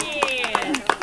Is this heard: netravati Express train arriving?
no